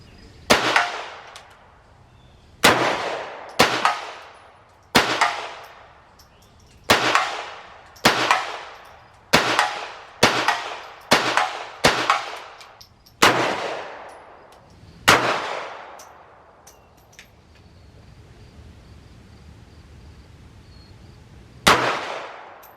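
Sharp .22 gunshots ring out one after another at uneven intervals, each followed by a metallic clang and ringing decay from a steel target, with a final shot after a quiet pause.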